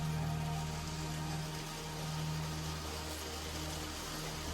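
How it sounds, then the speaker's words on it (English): Steady rain falls and patters on surfaces, a soft continuous hiss with a low hum underneath, fairly quiet and without voices. "this rain is pissing me the fuck off"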